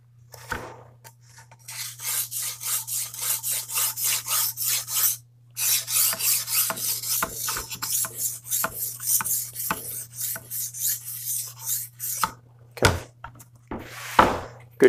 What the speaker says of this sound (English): Let's just do a full pass with this stone.